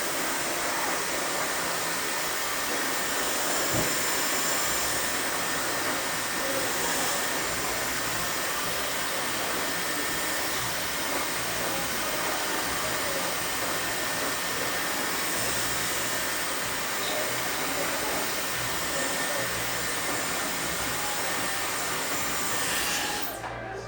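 A hair dryer blows steadily on a final section of hair during an at-home blowout, a loud, continuous rushing whoosh that holds for over twenty seconds with only slight wavering and no speech.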